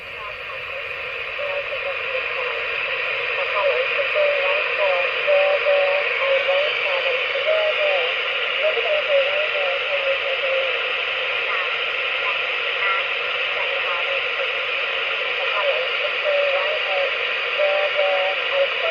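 An old MCR1 spy radio receiver, about 70 years old, picking up the Shannon Volmet shortwave broadcast on 5.505 MHz, heard as a steady hiss and hum with a faint, warbling voice buried in the noise throughout.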